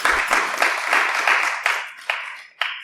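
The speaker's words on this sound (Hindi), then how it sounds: "तालियां बजाओ सब इसके लिए" Students at a Bhagavad Gita class burst into dense, close applause that thins into a few scattered, separate claps before a final clap.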